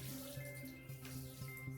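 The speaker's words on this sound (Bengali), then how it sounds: "এইভাবে জলটাকে নিংড়ে নিচ্ছি," Water drips and trickles as a washed cloth is wrung out by hand, a close, soft splashing that is continuous and irregular throughout.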